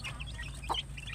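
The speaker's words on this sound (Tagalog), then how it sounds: "manok." Chickens clucking in a farmyard, soft short calls scattered over a steady low background hum, with one brief louder squawk near the middle; no talking.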